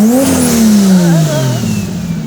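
A 2JZ-powered Ford F-150 pickup revs up close, its engine note rising sharply and then sliding smoothly back down toward idle, loud and clean with no talking over it.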